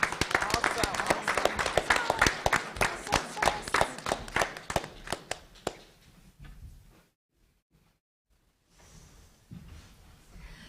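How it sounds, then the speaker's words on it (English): A standing crowd at a school board meeting applauds students, with dense, lively clapping for about six seconds that quickly fades to near silence before faint room noise returns. "Let's stand and give them another round of applause."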